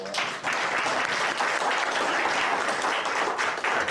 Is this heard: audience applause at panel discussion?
yes